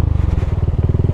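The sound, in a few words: motorcycle engine running during a ride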